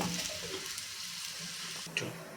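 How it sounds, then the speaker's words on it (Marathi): A coriander and jowar-flour thalipeeth flatbread fries in oil on a pan, giving a steady soft sizzle and crackle close by, with a faint clink near the end. "तेल घालून घेऊयात म्हणजे ही खालची साईडसुद्धा छानपैकी खरपूस आपली भाजून तयार होईल"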